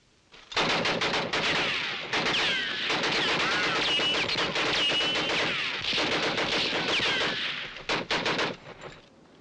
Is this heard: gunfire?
yes